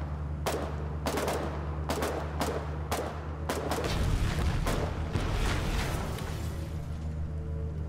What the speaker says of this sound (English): Follow the sound of the gunfire